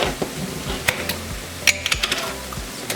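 Meat sauce goes into a pan of cooked ground meat on the lowest heat for baked ziti, giving a soft, steady sizzle broken by scattered sharp clicks and taps of a utensil against the pan.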